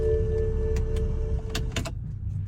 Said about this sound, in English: the vehicle starts right up.